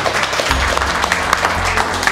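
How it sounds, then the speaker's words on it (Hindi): Audience applause at an indoor mobile phone repair training class, a steady dense clapping from a crowd nearby lasting throughout, fairly loud and continuous. "ताली हो जाए भाई"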